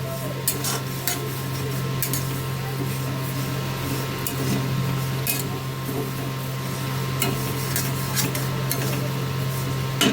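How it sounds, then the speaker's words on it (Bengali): Moong dal frying in a pan while being stirred, a steady dense sizzle with scattered scraping clicks of a utensil against the pan, continuous and fairly loud throughout. "মুগ ডালটাকে ততক্ষণ পর্যন্ত ভাজবো যতক্ষণ পর্যন্ত না ওর গায়ে হালকা একটা রেক আছে"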